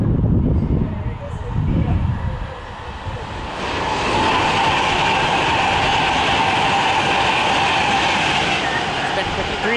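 A passenger train on the London to Birmingham line rumbles past close by at Milton Keynes Central station, a steady rushing roar of wheels on rails building after a brief lull, with some talk at the start.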